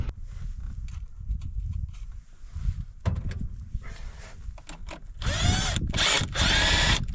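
A power tool snugs up bolts on a truck during repairs, sounding as short, irregular bursts of whirring and rattling. A louder, denser run of buzzing comes near the end.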